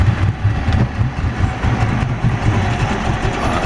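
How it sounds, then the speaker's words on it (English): A 2004 Mercury 60 hp outboard engine running smoothly, a loud, close, even low rumble with a steady throb and no pauses. "this engine runs very smooth"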